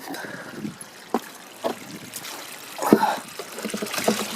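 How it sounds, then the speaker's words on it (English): Water trickling out of a sump pump discharge line on a driveway, a faint irregular dribble with scattered small splashes and drips, quiet and close, with no talk. "See, the water comes out here"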